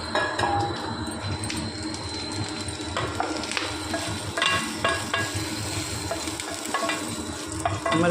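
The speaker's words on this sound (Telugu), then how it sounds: "మిరపకాయలు మళ్ళా 2 సేపు వేయించుకో సరిగా." Chillies sizzling in a pan as the tempering for a Telugu broad-bean curry: constant loud frying hiss with a spoon scraping and stirring, and occasional clinks of metal cookware close by.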